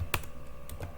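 Keys clacking on a computer keyboard while a network command is entered on a PC, a few quick bursts of taps spread over about a second, close and fairly quiet with no talk.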